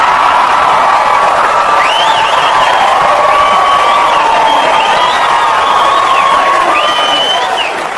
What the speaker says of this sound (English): you guys are clapping and you're laughing